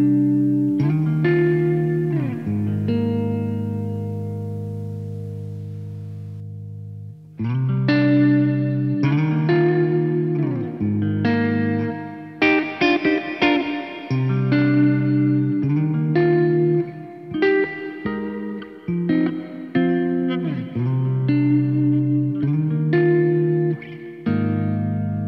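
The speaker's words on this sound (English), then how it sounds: "you could increase the drive even more and take the bit reduction up a little bit" Electric guitar run through a reverb effect with heavy drive and bit reduction, sustained distorted chords ringing with long washy tails and gritty digital edges, played alone with brief pauses between phrases.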